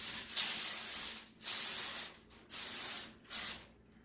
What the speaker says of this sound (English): They sprayed their foil.